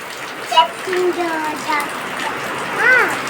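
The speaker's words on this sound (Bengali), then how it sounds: "বৃষ্টি হচ্ছে," Steady rain hisses throughout, with voices talking over the downpour and a voice rising briefly near the end.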